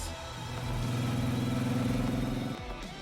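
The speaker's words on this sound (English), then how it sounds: "Sugar revved the engine and zooms off on her bike towards the factory." A motorcycle engine in Goddess of Victory: Nikke revs up loud and steady, holds a strong rising drone for about two seconds, then drops off abruptly as the bike pulls away, with no talking.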